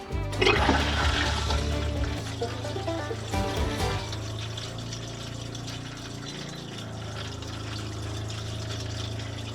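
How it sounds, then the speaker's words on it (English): An RV toilet in a Roadtrek Zion camper van flushes with a loud rush of water and the hum of a pump, a strong gush at the start that settles into steady running water and pump drone. "what we want to do is go to the toilet and flush it"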